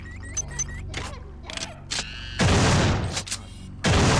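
In System Shock 2, a shotgun fires in heavy, close blasts among clicks and mechanical game sounds, with two booming shots standing out near the end of a short burst of action.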